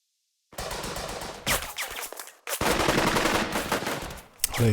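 Rapid bursts of automatic gunfire in the World War II video game Burden of Command, loud and close, two long sustained volleys separated by a brief pause, with no talking over them.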